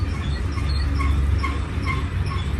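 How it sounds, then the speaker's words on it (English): A freight train on the main line rolls past at a cut, giving a steady low rumble with faint, regularly spaced wheel clicks and a thin metallic ring above it. "This train's going to tie down at Keenbrook."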